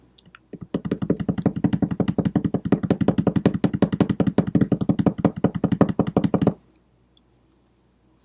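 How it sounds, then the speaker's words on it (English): Hands rapidly drum on a hard surface in a fast, steady roll of knocks that lasts about six seconds, loud and close, then stops abruptly into silence. "this one definitely deserves a drum roll for sure"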